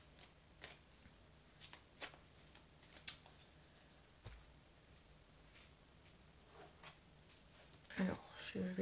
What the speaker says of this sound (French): Je vais donc battre les cartes et puis on va voir la suite